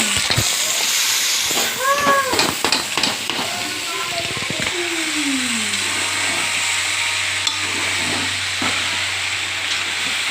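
Noodles sizzle and hiss in a hot pan with chicken and mushrooms, a steady frying hiss with scattered scraping and clattering early on, with brief voice-like tones over it and a low hum later.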